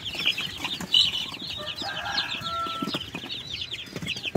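Several Rhode Island Red show-type chickens cluck and murmur in a backyard farm coop, with overlapping soft calls and occasional rustling over a low background.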